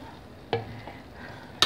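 A spice mix is stirred into sliced white squash frying in a pan, with a constant sizzle and two sharp scraping clacks of the utensil against the pan.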